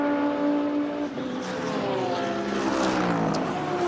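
GT3 race cars at Zandvoort circuit in a 2011 FIA GT3 race, loud roaring engines sweeping past with shifting pitch, blended with broadcast ambience.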